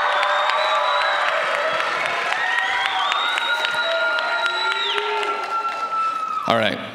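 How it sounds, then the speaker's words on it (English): Pageant audience clapping and cheering at the Utah America Pageant 2022, a sustained crowd roar with whoops that fades toward the end, where a voice briefly cuts in. "Let's give him a round of applause"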